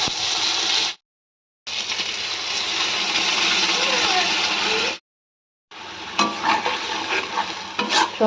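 Eggplant pieces fry in a pan, a dense, loud sizzle interrupted by two short silent gaps, with scraping stirring strokes and sharper crackles toward the end.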